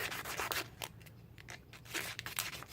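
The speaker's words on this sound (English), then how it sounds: "take your guitar pick and your 120 grit sandpaper and start to shape it" Plastic guitar pick cut from an old CD being sanded with 120 grit sandpaper, rapid rasping strokes up close, rhythmic and continuous with no talk.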